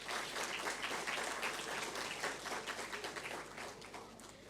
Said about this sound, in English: Let us give a round of applause for the Maldivian dancers